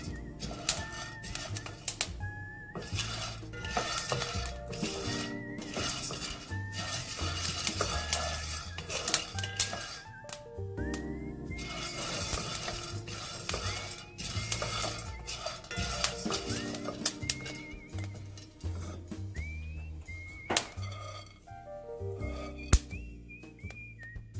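Coffee beans crackle through first crack while roasting, a scattered run of sharp pops and clicks over a constant mechanical rumble of the roaster, with occasional whistling tones.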